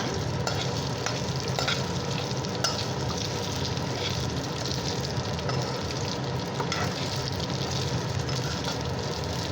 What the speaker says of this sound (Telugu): వీటిని ఇలా ఫ్రై చేసుకుంటారు అన్నమాట